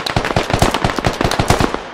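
Rapid gunfire in the military shooter game Squad, a fast string of about a dozen sharp, close, loud shots in quick bursts with no talking.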